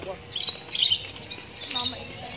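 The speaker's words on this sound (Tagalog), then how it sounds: "Oh, bird!" Small birds chirp in quick, bright bursts at a family outing in Kariktan, Meycauayan, several short calls close together while voices speak nearby.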